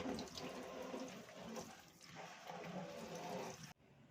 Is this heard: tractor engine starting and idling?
no